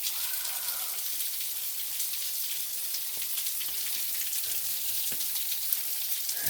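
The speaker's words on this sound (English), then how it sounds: "Gorgeous waterfall up here." A waterfall in Big South Fork, Tennessee, heard in the rain as a dense, even hiss of falling water, steady and close with no pauses.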